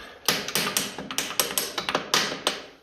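Metallic hammer taps strike a 1955 Ferguson TED tractor's front axle in a steady, uneven series of about a dozen sharp blows, close and fairly loud, with no talking.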